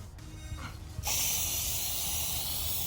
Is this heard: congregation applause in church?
no